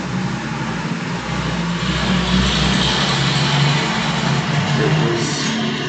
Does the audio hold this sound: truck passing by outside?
yes